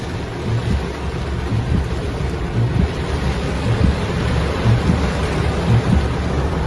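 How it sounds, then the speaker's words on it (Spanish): Heavy rain pours down steadily with deep rolling rumbles of thunder, a dense, continuous wash of downpour and low booms filling the whole stretch with no voices. "porque está lloviendo de verdad"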